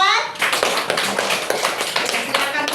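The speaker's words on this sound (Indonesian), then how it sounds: "Oke, tepuk tangan semua." A class of Indonesian fifth-grade primary schoolchildren claps hands together after a short pause, a dense burst of close, bright clapping that carries on steadily with some children's voices mixed in.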